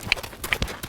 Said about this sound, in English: I'm going to ask for canter around here.